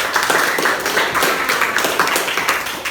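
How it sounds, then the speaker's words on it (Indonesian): A classroom of students claps for a classmate, a dense patter of many small hands forming steady applause that fills the room at close range with no talk over it. "Tepuk tangan untuk Devi"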